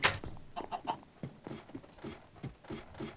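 Chickens clucking in the Minecraft video game, a run of short rhythmic clucks repeated through the clip, fairly close and clear with no talk over them.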